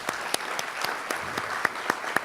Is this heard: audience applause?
yes